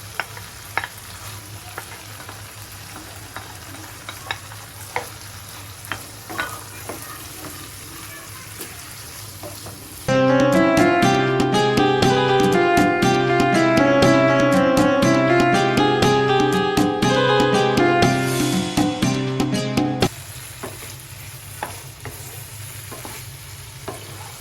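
Goat liver and fried potatoes stir-frying with spices in a pan, a steady sizzle with scraping stirs, while a burst of loud music covers the middle stretch before the frying sounds return alone.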